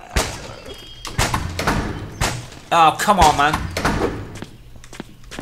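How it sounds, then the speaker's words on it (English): Zombies in the Zompiercer video game bang on a door with loud, heavy thumps and slams at uneven intervals. Someone talks over the noise. "somebody else is banging on the door."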